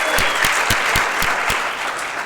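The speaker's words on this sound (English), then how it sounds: "I'd like to give Jim a round of applause" A round of applause for Jim Ciletti, the temporary president, at a poet laureate inauguration, a steady crowd clapping filling the room with a few louder claps standing out, holding at an even level throughout.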